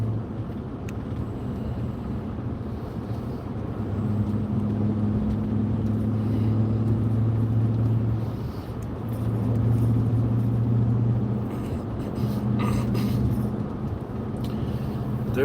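Car on a long highway drive, a steady loud engine and road rumble filling the whole stretch, with a low droning hum that swells and eases and no break in the noise.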